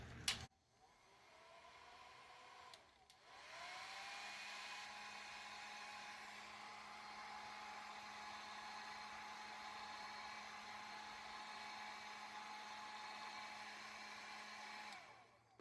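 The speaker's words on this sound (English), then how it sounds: "just heat up your label with the hairdryer" A handheld hairdryer blows steadily on a sticker label stuck to glass, switching on after a brief click and whirring at a constant pitch for about twelve seconds before cutting off.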